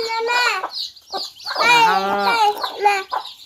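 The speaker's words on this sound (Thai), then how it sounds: "นี่ไก่กินข้าว" Chickens feeding on rice give loud, close, clucking calls in short bursts with brief pauses between them.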